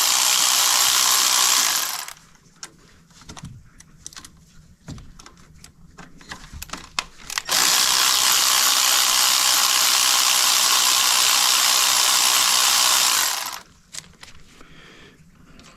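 Power tool spinning out EGR valve bolts on a Mercedes Sprinter van: two long, loud, steady whirring bursts separated by quieter clicking and rattling of tools and parts.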